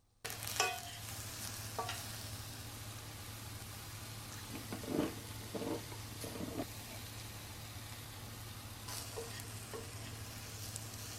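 Tomatoes and mushrooms sear in a pan with a soft, steady sizzle over a low background hum, with a few scattered scrapes and clatters as they are moved around.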